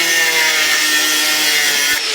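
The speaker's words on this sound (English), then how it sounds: "I'm getting the angle grinder in there and just trying to loosen that off" An angle grinder cutting through a weld on the bulkhead retainer of a VW T5/T6 panel van, a loud, continuous, close-up grinding whine with no pauses.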